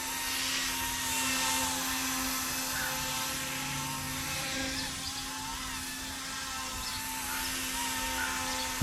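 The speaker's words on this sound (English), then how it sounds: "I think the helicopter actually flies better than it did." A small RC helicopter, a Blade Infusion with an aluminum three-blade head, whines steadily overhead, its high-pitched rotor buzz holding fairly constant with slight swells, at moderate distance.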